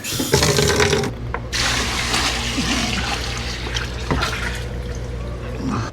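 Water from a sink tap pours into a bucket in a steady, close rush that shifts in tone partway through as the water level rises.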